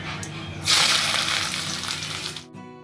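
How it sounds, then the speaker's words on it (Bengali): Whole cumin seeds and a large chopped onion hit hot mustard oil for a mutton liver curry, bursting into a loud, steady hiss and sizzle that holds for about two seconds before cutting off abruptly. "গরম তেলে ফোড়ন দিয়ে দিচ্ছি হাফ চা চামচের মতন গোটা জিরে আর একটা বড় সাইজের পেঁয়াজ কুচি।"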